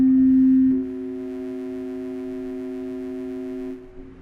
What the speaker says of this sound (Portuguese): 64 sobre 45 daria o Fá sustenido.